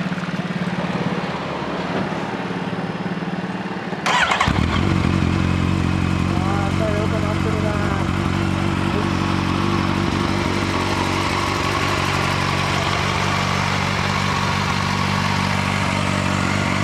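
A Yamaha FZ8 with an Akrapovic exhaust fires up after a few seconds of quiet background. It then idles loud and close with a deep, steady rumble and brief throttle blips, and faint voices can be heard nearby.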